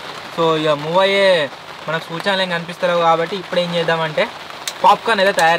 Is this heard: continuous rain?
yes